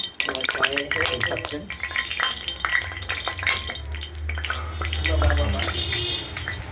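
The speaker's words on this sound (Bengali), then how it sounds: "আর তেলটি ফুটছে খুব" Hot oil bubbles hard in a wok, ready for a bata fish curry, sizzling and crackling steadily beneath a person talking.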